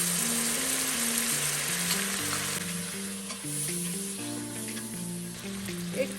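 Onions with turmeric and chopped tomato frying in an Instant Pot, a constant close sizzle with stirring scrapes and faint clinks, no talking.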